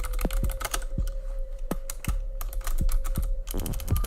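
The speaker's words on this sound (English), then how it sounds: "You're just going to type in restart." Rapid, uneven keystrokes clack on a computer keyboard close by, with a dozen or so sharp taps over a faint steady hum and a brief flurry of keys near the end.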